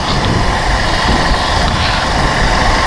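A motorcycle engine drones loud and steady while riding at night on the roads of Muzaffarpur, mixed with rushing wind and road noise that fill the whole stretch without a break.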